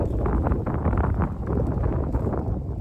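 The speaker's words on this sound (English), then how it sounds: "It's windy." Wind buffeting outdoors, a constant rough roar and rumble pressing on the microphone for the whole stretch, loud and unbroken.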